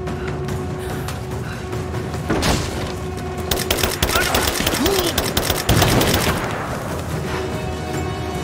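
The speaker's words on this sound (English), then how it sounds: "Give me suppressing fire, now! Laying down covering fire!" Rise of the Tomb Raider gunfight with rapid automatic fire in repeated loud bursts and a few heavier booms, thick and close, tapering off toward the end with faint voices in the mix.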